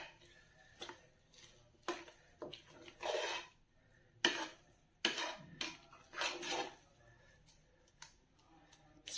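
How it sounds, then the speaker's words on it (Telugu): Ragi flour mixture being stirred in a pot: intermittent scraping and clinking of a spoon against the vessel in irregular bursts, fairly close and quiet. "రాగి పిండి వేసానండి. దీన్ని బాగా కలుపుతున్నాను."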